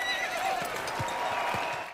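Horse neighing loudly in a House of the Dragon jousting scene, a drawn-out whinny over crowd noise with a few dull hoof thuds, no talk over it.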